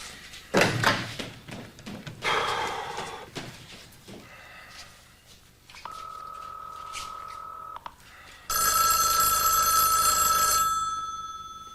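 A telephone bell rings in a quiet indoor scene, a sustained metallic trill near the end following an earlier shorter ring and scattered bumps and movement sounds.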